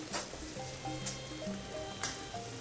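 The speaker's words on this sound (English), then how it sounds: "Now add the onion pieces. Continue sauteing." Onion pieces sautéing in a pan over a high flame for a Chinese-style prawns in black bean sauce, a steady close sizzle and crackle with a few brief scraping stirs and no voices.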